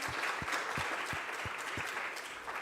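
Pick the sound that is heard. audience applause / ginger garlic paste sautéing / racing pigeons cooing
audience applause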